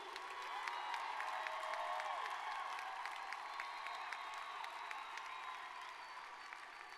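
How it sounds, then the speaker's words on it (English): Sustained applause from a large crowd at a high school graduation ceremony, with some cheering and whoops mixed in, steady and fairly distant throughout. "One more big round of applause."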